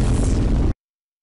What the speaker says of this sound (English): Orbital defense is ready to fire.